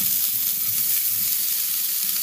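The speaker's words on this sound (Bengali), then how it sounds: "হিং আর 5 ফোড়নটাকে দিয়ে একটু ভাজা ভাজা করে নেওয়ার পর" Asafoetida and panch phoron spices sizzle in hot oil for a cauliflower singara filling, a steady close, bright crackling hiss that runs alone throughout with faint low stirring clatter beneath.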